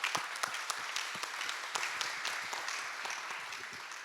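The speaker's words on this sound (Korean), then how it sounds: "박수 한번 부탁드리겠습니다." Audience applause at a forum during a Korean biennale event, scattered distinct claps forming a moderate, fairly even round that tapers slightly toward the end.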